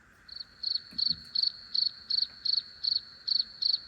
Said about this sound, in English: yep, crickets.